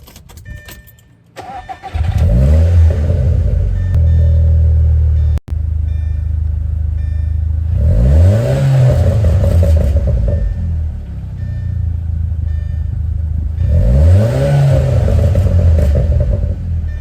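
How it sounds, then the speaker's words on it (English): A car's engine cold-starts with a crank, then settles into a loud, steady idle, rising in two or three swelling revs spaced several seconds apart, close to the microphone with no talking. "Let's get a little start up here. A little cold start."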